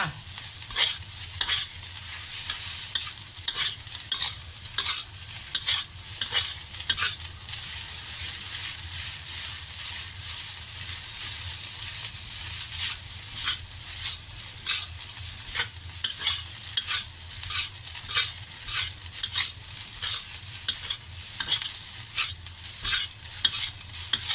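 Rice and egg stir-fried in a pan, a steady sizzle broken by repeated scraping strokes of a spatula for over twenty seconds, with no voices.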